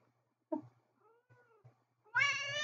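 A cat gives a few soft, quiet meows, then lets out a loud, drawn-out meow close by, with a faint low hum underneath.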